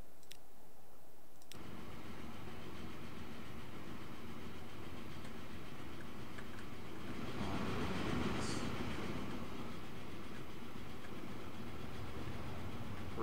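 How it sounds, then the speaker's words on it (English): A freight train in the railway video game Transport Fever 2 rolls through, a steady rumbling drone with faint clickety-clack from the wagons, holding level for over ten seconds and swelling slightly midway. "you see our next train running through"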